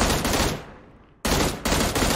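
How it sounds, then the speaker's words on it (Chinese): Bursts of automatic gunfire in the mobile battle royale Game for Peace, near an airport building on the island map: loud sustained rattling, a brief lull as it fades, then two fresh loud volleys. "窗外还有枪声"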